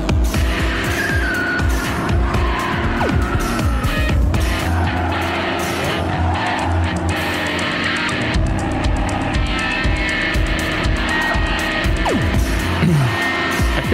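A car in the Renzo Racer video game runs over grass on worn, damaged tires, its engine droning continuously with scrubbing, skidding tire noise and rough bumps, loud and constant throughout.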